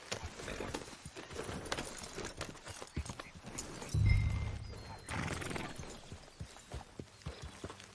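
Horse hooves drumming at a gallop in Red Dead Redemption 2, a faint, steady clip-clop rhythm running throughout beneath quiet ambience, with one brief deeper thump and some low talk.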